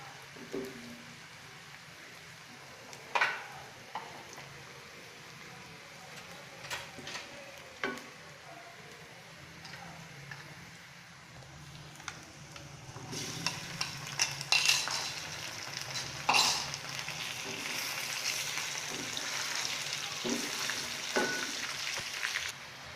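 Chicken frying with onion and cumin in a pan, heard as a soft steady sizzle with scattered clinks and scrapes of a spoon against the pan, growing louder and busier toward the end; no talking.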